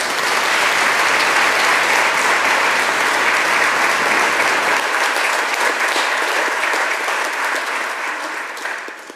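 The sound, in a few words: congregation applause in church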